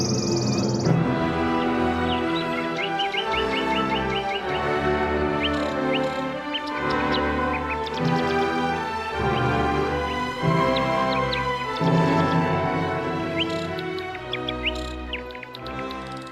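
Rapid, high chirping bird notes repeat in quick bursts over a layered, steady musical backdrop, fairly clear and continuous throughout.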